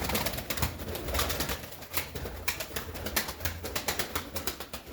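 Pigeons coo in a steady, busy stream, with sharp clicks and rustles of movement scattered throughout, fairly close and loud.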